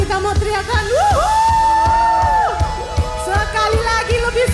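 A church congregation at an online worship service shouts "wuhu" together, a loud mass of rising, overlapping whoops and yells over a couple of seconds, with crowd voices and clatter around it.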